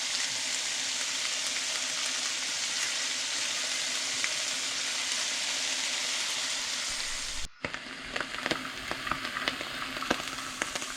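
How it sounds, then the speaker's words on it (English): Morel mushrooms fry in butter with a loud, dense, continuous sizzle and crackle; a sudden brief break comes near the end, then sharper spitting pops and clatter as the frying resumes. "don't forget to flip them on another side"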